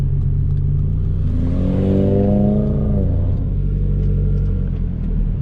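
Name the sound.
Audi RS3 car accelerating away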